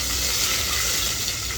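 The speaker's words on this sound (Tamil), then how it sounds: "கடுகு, ஜீரகம், ஓகே, கருவேப்பிலை எல்லாமே சிம்மில் வச்சு இது பண்ணிக்கோங்க." Mustard seeds, cumin and curry leaves sizzle steadily in hot oil on a low flame while making one-pot sambar rice, a continuous close hiss with no talking.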